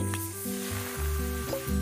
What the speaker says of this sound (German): dann frittieren wir den Fisch